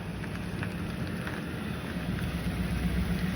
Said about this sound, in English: I was trying to get away from engine noise,